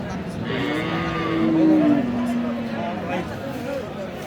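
A Sahiwal bull calf or cattle at a village livestock market gives one drawn-out moo in the middle, moderately close, over steady crowd murmur and background voices.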